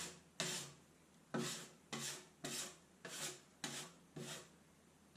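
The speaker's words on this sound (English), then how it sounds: "I'm just going to give it just a quick scrape back to get everything nice and flat." Setting adhesive plaster is scraped flat over a drywall repair left where a towel bar was pulled off. It gives seven evenly spaced rasping strokes, each a close, short scrape followed by a brief pause, with no voices.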